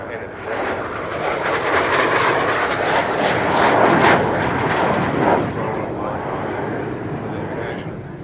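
A propeller aircraft engine runs with a loud, steady drone that swells slightly in the middle and then holds, while people talk over it.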